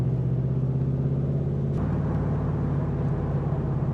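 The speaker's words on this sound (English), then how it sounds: "we got 2 side exit exhausts. So as you can hear, the sound is, I think, what you describe as thunderous" A Chevy V8 in a 2005 Pilgrim Sumo Cobra Mk3 replica rumbles through its side exit exhausts, a deep steady burble close by with a slight shift partway through.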